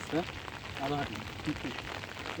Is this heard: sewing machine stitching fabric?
no